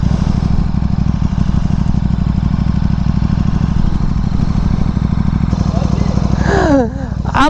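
A 2015 KTM RC8 R sportbike engine drones steadily and loud at close range while riding, with a voice talking over it and a brief rising-falling whine near the end.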